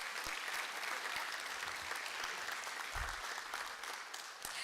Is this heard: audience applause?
yes